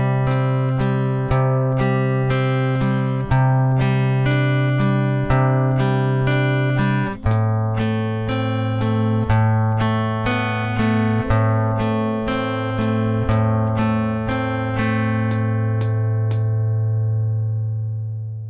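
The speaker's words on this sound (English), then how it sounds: "So let's hear that being played slowly with a 2-bar introduction." Fingerstyle guitar plays a slow, steady fingerpicking pattern with a two-bar introduction. Clear plucked notes ring out one after another in an even rhythm, and the tone stays close and clean with no voice throughout.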